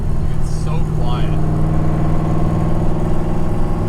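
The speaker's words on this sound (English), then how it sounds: "This engine's very quiet when you have everything shut." A quiet, steady idle from an LS-swapped Nissan Z31 300ZX turbo with everything shut, a low even rumble running throughout with voices talking briefly over it.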